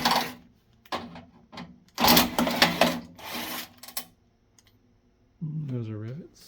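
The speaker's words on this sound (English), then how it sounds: "And while I'm at it, I might as well remove these other screws." Screws come out of an APC Dell SmartUPS DLA3000RM2U 3000VA 120V battery backup during a teardown. Close, intermittent clicks and rasping bursts of tool and metal are followed by a brief rising whine at the end.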